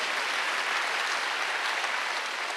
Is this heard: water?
no